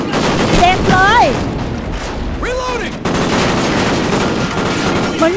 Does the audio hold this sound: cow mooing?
no